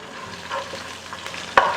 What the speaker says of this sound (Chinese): 然后再把这个干辣椒放进去。